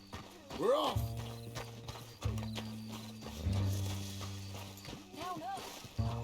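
A horse in the video game Red Dead Redemption 2 moves at a rhythmic clip-clop with whinnies and snorts, close and fairly loud, while a voice speaks over it.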